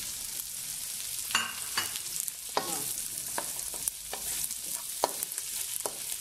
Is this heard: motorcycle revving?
no